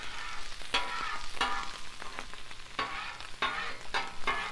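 A spatula scrapes grease across a Blackstone griddle while 90-10 ground burger meat fries, sharp repeated scraping strokes over a constant close sizzle, with no talk.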